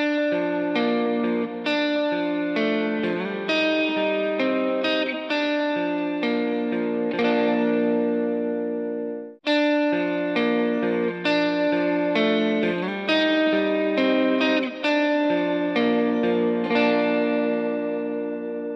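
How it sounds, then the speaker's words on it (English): Electric guitar recorded at home through delay and reverb pedals, then with delay and reverb plugins, playing sustained chords and picked notes with long echoing tails; two passes with a short break midway, loud and steady, no talking. "now I'm gonna play a sound sample with delay and reverb pedals, and then with delay and reverb plugins added after the fact"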